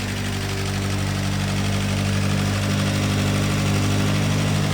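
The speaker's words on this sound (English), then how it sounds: "These are a little high revving 4-cylinder." A 1946 Crosley two-door sedan's little 724 cc high-revving four-cylinder runs at a steady idle close by, with an even, unbroken mechanical hum and no talking.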